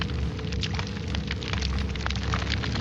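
Fire crackles in a havan fire pit within a horror video game, a steady, dense bed of small pops and snaps with no voices over it.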